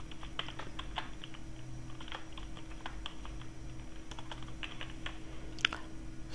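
Code being typed on a computer keyboard, with steady clicking keystrokes in irregular bursts over a constant low hum, up close and moderately quiet, with no talking.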